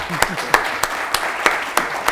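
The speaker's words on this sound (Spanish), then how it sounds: "muchísimas gracias y un aplauso para ellos" A short burst of scattered audience clapping, with several sharp claps spaced irregularly over a steady crowd murmur.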